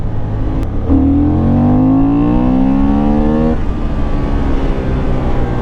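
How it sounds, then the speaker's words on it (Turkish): A Honda Hornet 750 motorcycle engine is revved once as the throttle is opened, the loud close engine note climbing sharply and then falling back to idle, with no talking. "İkide bir gaz açayım"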